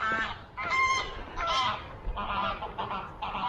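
Wild geese honk repeatedly in a loud, overlapping chorus of harsh calls close by, with no talking.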